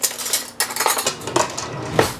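A metal spoon clatters against dishes in a home kitchen, a quick run of bright clinks and scrapes close by, loud and alone, beside a hot baked dish topped with chopped pecans.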